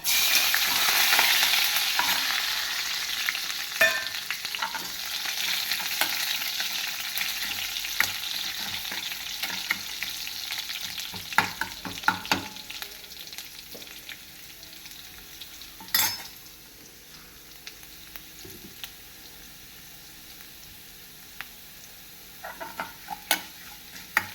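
Onion, chili and curry leaves sizzle and crackle in hot oil with fenugreek seeds, with repeated scraping stirs in a pan; the sizzle is loudest at first and settles lower.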